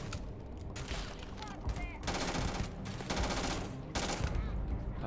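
Submachine gun fire in the sci-fi video game Starfield, loud bursts of automatic shots repeating in several volleys with game effects between them, close and dominant throughout.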